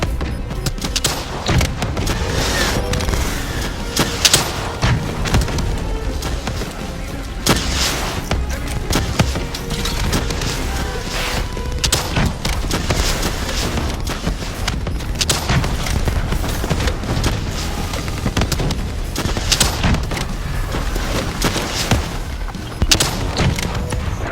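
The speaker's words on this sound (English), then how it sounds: "Javelin missiles incoming!" Javelin missile explosions and gunfire rage without pause in a Call of Duty Black Ops battle mission. Dense, loud bursts of shots mix with heavy booms and thumps throughout.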